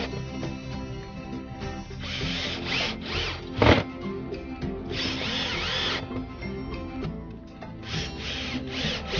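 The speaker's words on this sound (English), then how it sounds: "now I'm just going to go ahead and set those screws in" A power drill drives screws into pre-drilled holes in a wooden bat box, its motor whirring loudly with rising bursts and brief pauses as each screw sets in.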